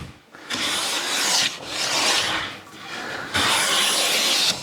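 A freshly sharpened hand plane blade shaves thin wispy curls from wood, giving three long rasping strokes separated by brief pauses, close and clear with no talking.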